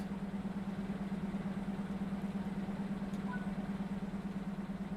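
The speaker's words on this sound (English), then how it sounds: "look at this engine room. Very loud, too" A locomotive engine room with what looks like a V12 diesel runs on a Czech route in a Train Sim World 6 game, giving a steady, loud, continuous drone with a firm low hum throughout and no talking.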